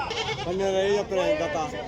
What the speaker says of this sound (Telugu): ఇక్కడ వచ్చేసి ఒక 4 మేకపోతులు అయితే ఉన్నాయి